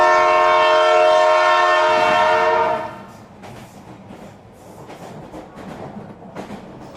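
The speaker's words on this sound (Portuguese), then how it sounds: "O trem de Jundiaí tá passando." A train in Jundiaí sounds a long, loud horn blast, then rumbles and clatters past nearby as the horn cuts off.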